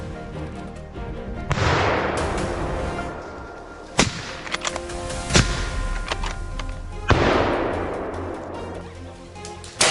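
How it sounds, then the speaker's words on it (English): Rifle shots fired at a wild boar during a hunt, heard as a few sharp, loud cracks spaced several seconds apart against a steady rushing background, with no voices. "With a single, clean, and precise shot, the massive beast was brought down"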